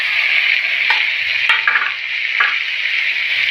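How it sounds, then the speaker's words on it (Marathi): Clams stirred into a sizzling masala in a pan, giving steady frying hiss with a few soft scraping stirs and light clinks, close up and alone. "खुबं टाकून घेऊया."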